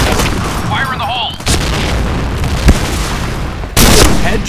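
A grenade blast in a shooter video game: a loud electronic burst near the middle and another heavy boom at the end over a dense, noisy mix, with a short whistling voice-like sound early on.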